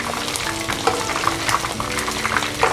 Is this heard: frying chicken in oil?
yes